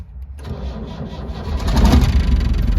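A 1986 Land Rover 90 pickup with a 12J diesel engine cranks and catches after warming its glow plugs, then settles into a loud, close, rough idle that grows steadily louder with no talking.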